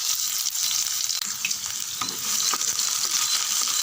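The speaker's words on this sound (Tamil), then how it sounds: "கடுகு நல்லா பொரிய ஆரம்பிச்சுடுத்து." Mustard seeds and chopped onion fry in hot oil, a steady loud sizzle with scattered pops and occasional stirring clicks.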